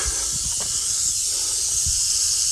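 A rattlesnake inside a tool shed gives a continuous, close, sharp hissing rattle that holds steady throughout, with faint low rustling and bumps beneath.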